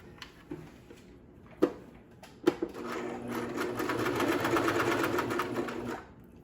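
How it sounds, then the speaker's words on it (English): A sewing machine stitches fabric for a child's face mask: a few sharp clicks and taps of setup, then the needle runs in a steady, close mechanical whirr for about three seconds before stopping. "And I start sewing."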